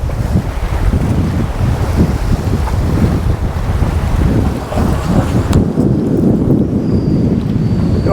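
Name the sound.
strong wind on the shore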